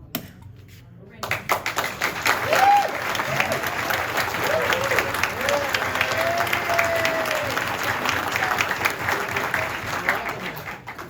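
An audience claps at a cocktail contest held at a lakeside luau. The applause is dense and sustained and runs on for most of the stretch, with people talking over it and a few taps and knocks nearby.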